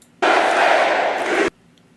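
A dense crowd roars and cheers at a political rally, a loud, sustained burst of massed voices that starts abruptly, holds steady for over a second, then cuts off to near silence.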